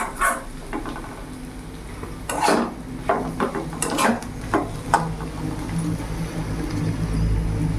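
Okra masala fry, dhaba-style bhindi with fenugreek, being stirred in a pan: a string of scraping, clinking spatula strokes against the metal over a low steady sizzle, close and moderately loud, with no talking.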